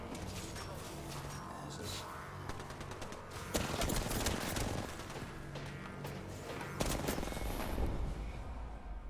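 Rapid automatic gunfire from a weapon in the video game Apex Legends rattles in dense bursts with crashing impacts, continuous and loud for several seconds, with game voices mixed underneath.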